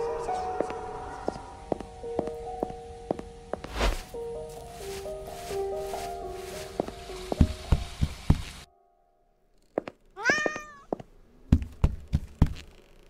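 A cat meows in the BurnHouse Lane horror game, a short rising-and-falling call after a quiet gap, surrounded by soft knocks and thumps from the game.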